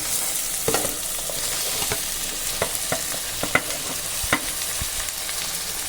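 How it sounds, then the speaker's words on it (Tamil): Close, steady sizzle of tomatoes frying in a pan for chicken biryani, with scattered sharp scraping clicks of a utensil stirring, no voices. "தக்காளி எல்லாத்தையும் சேர்த்து நல்லா கிண்டிக்கிட்டு போங்க"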